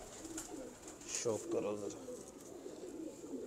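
Slate pigeons coo in a loft, low soft calls recurring near and steady while someone talks over them.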